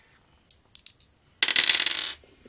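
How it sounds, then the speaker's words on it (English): Plastic dice tumble during a board wargame: a few sharp clicks as they are gathered, then a dense, loud clattering burst for under a second as they roll across the table, close by with no talk. "And if I roll the dice,"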